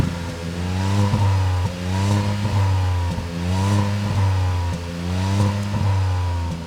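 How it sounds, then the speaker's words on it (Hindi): Tata Altroz Racer exhaust note under repeated revving, the engine climbing in pitch in four steady surges and dropping back between them, close and loud with no talking. "तो आइए आपको सुनाते हैं गाड़ी का एग्जॉस्ट नोट अल्ट्रोज रेसर का।"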